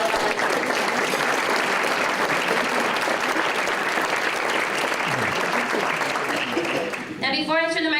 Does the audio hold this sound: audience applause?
yes